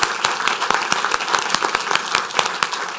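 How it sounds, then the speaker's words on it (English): A council meeting audience claps for an honored student, loud brisk applause with sharp individual claps standing out throughout. "I think he needs a round of applause for that."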